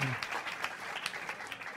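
Studio audience applause at a live Indian comedy talent show, a dense, steady patter of many hands clapping at close range throughout, with a brief voice fragment at the very start.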